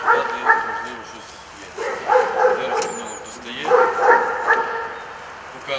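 An explosives detection dog barks in repeated bursts during a vehicle search at a checkpoint, the loud woofs arriving in three clustered groups close by.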